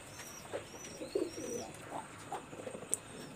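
A breeding pair of golden pigeons, one white golden and one white Commando golden, coo softly in short, low bursts at moderate distance, with faint chirps and background noise.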